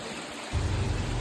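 Water flows and splashes inside a cave, a steady broadband wash that starts abruptly partway through and continues loud and close to the end, with no voices.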